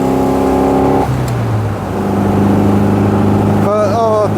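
A classic MG MGA roadster's engine revving, a steady droning engine note that drops in pitch after a second and holds, loud and close, with a person talking near the end.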